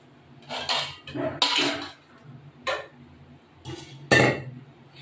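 A cooking pot of potato curry is lifted off the stove with several close metallic clanks and scrapes at irregular intervals.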